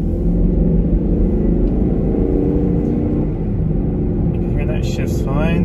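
Engine of a cheap supercharged Range Rover pulling onto a main road, a steady deep rumble under light throttle heard from inside the cabin, continuous and fairly loud without high revving.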